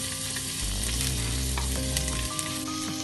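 Chopped ginger and a handful of peeled garlic sauté in a hot pan for thoothuvalai thuvaiyal, sizzling steadily and crackling up close while being stirred.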